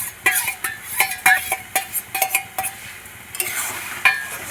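Fried prawns stirred into a pan of taro leaf curry, with a utensil scraping and clinking against the pan in irregular strokes over a soft sizzle. The sounds are close and clear, with no talk.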